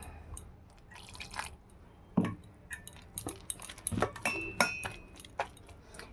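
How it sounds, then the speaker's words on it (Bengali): Water is added little by little to fish fry batter for crisp topshe, producing scattered drips, splashes and clinks of a utensil against the bowl, fairly faint and irregular. "অল্প অল্প জল দিয়ে আমি ব্যাটারটা তৈরি করে নিচ্ছি"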